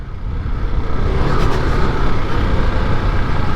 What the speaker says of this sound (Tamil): இப்போவும் அந்த வண்டி எக்ஸாஸ்ட் சவுண்டு எதுவுமே மாற்றல, எல்லாமே ஸ்டாக் தான் இந்த வண்டியில்.